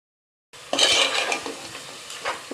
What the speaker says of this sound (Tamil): இப்போ மட்டனை நல்லா வதக்கி விட்டாச்சு.